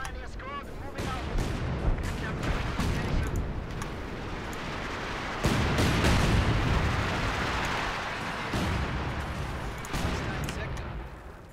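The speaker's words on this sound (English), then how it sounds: "Light artillery barrage launched" Light artillery barrage in Company of Heroes 2, a continuous rumble of booms and bursts layered thickly over battlefield noise, with voices talking underneath.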